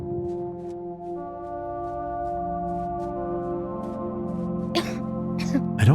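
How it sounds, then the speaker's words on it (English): A character coughs in the video game Torn Away: a few short, harsh bursts near the end, played over a steady low droning musical score. "I don't like the sound of your cough."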